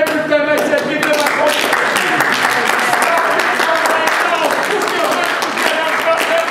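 Guests clap at a wedding reception: brisk, loud, continuous clapping from a crowd throughout, with voices and tonal sound carrying over it.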